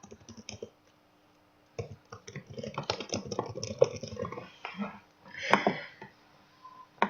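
Quiet bursts of computer keyboard typing, quick clustered key clicks separated by brief pauses, close and soft with no talking.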